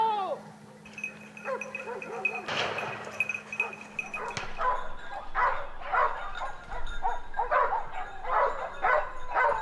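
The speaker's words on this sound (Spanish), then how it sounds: "La ladra del Paterna en carrera delata que puede venir un jabalí muy pronto" A hunting dog barks in quick repeated yips while running during a wild boar hunt in the Spanish countryside, the barks fairly close and insistent over steady outdoor background noise.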